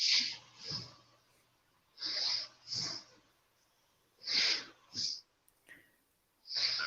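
Heavy, rasping breaths come in repeated bursts, some paired, fairly close but quiet, with silent gaps between them.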